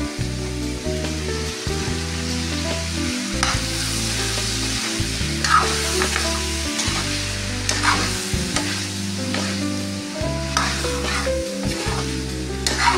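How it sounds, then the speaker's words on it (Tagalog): Eggplant being stirred into mung bean stew in a pan, with steady loud sizzling and frying beneath repeated scraping stir strokes, close and continuous throughout, no voices. "Lagay na natin yung ating eggplant. Mix lang yan."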